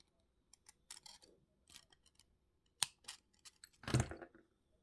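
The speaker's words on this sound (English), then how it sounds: "Need to cut that little tail end off there." Wire cutters snipping the tail end of wire on a woven tree-of-life pendant, a few faint close clicks and snips among small handling noises, ending in a louder crunching cut.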